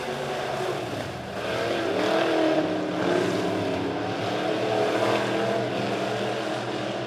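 Midwest modified race cars battle around a speedway, their engines a loud, continuous roar that swells and fades slightly as the pack passes, with no speech in between.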